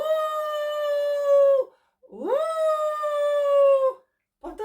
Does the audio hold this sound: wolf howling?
yes